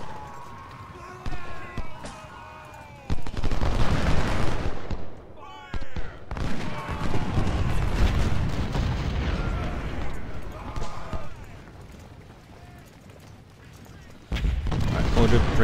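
Musket and cannon fire rattles across a Civil War battle in the strategy game Ultimate General, with bursts of volleys and booms rising and falling while someone talks over the action.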